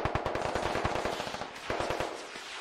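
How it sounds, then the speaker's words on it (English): Rapid automatic gunfire in the military shooter Squad, a fast run of sharp shots, then a short pause and a second burst, fairly distant and heard alone. "And it looks like Jenga's going to start shooting at the FOB."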